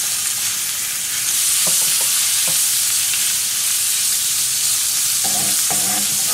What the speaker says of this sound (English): Now we'll add in the shrimp.